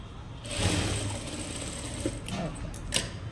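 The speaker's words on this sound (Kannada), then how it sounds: "ಡಬಲ್ ಸ್ಟಿಚ್ ಹಾಕ್ಕೋಬೇಕು" A sewing machine stitches a double seam on a blouse puff sleeve, running steadily and close for about three seconds with a brief change in pace near the end.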